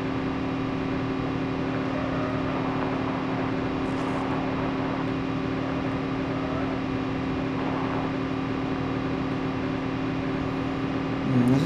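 A car driving in the mobile battle royale game Call of Duty Mobile gives a steady, even engine drone with a constant hum that holds for the whole stretch, with no talking over it.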